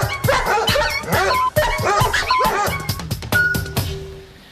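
Several dogs bark in rapid, overlapping bursts, loud and close, with a few high yips mixed in before the barking fades at the end.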